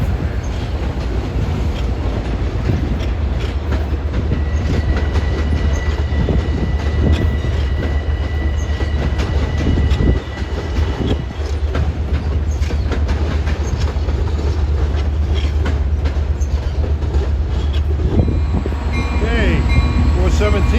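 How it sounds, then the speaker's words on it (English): A Long Island Rail Road train at the busy Jamaica station hub rumbles loudly and steadily, with rhythmic wheel clatter, metallic squeals and a brief tonal whine throughout. "train on track 8 is 558 departing for Oyster Bay."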